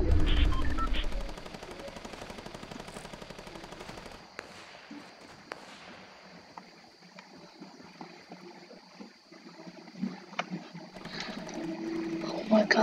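Gunfire in the Fortnite video game, season 4: rapid automatic bursts that are loud at first, drop to scattered quieter shots and then build again toward the end.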